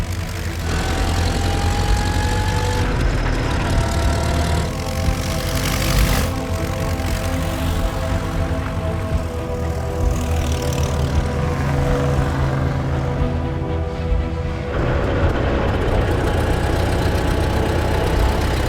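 Vintage racing car engines, including a 10-litre 1913 Théophile Schneider aero-engined special, roar and drone together during a race, their pitch rising and falling as they rev and pass, loud and continuous throughout.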